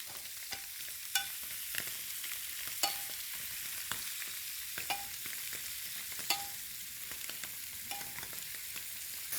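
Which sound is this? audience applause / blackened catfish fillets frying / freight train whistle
blackened catfish fillets frying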